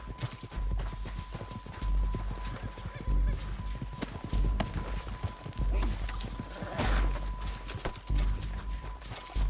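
Horses gallop and whinny in the Red Dead Redemption 2 game, with a rhythmic clip-clop of hooves throughout, a game score and ambience underneath, and voices speaking at moments.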